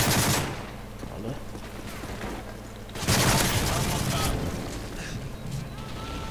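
MP7 submachine gun fired in Call of Duty: Modern Warfare 3, with rapid bursts of automatic gunfire punctuated by louder explosive blasts near the start and middle, set against busy game noise and voices.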